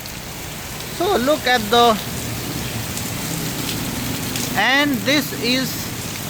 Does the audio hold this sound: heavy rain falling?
yes